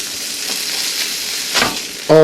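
A burger patty fries on a hot griddle, a steady hissing sizzle throughout, rising briefly after the patty is flipped, then a voice cuts in at the end.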